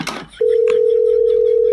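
After a short rustle, a phone line tone starts abruptly once a call is hung up, a loud, steady continuous hum that holds unbroken to the end.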